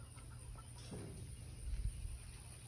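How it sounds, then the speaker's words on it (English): Chickens on a farm, including a young pullet hen with guinea keets, giving faint, soft clucks over a low, quiet background. "let's go look at our chicken babies, our guinea babies with chicken mama one more time."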